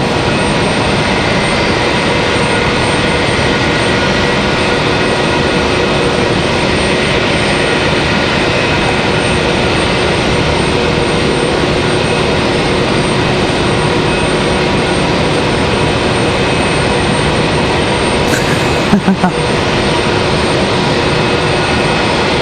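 A United airliner taxis at Raleigh Durham airport on a stormy evening, its engines a loud, steady, broadband roar that holds evenly, with a brief clatter near the end.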